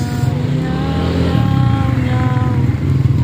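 A motorcycle engine runs steadily close by, with a low rumbling drone and faint rising tones from other traffic.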